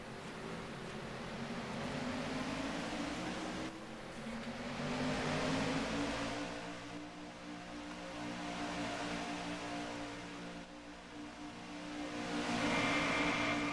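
A field of race cars accelerating on a restart at Pocono during the Tastykake 200, a roaring, whirring engine wash that swells and rises in pitch in repeated waves, loud and close, with no talking.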